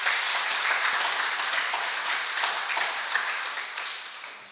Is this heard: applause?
yes